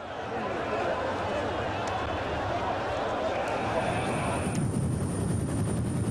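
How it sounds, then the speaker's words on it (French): Helicopters circle over the crowded Hajj area, a continuous loud rotor and engine roar mixed with dense crowd noise and chatter, steady throughout. "Une vingtaine d'hélicoptères survolent le périmètre en permanence."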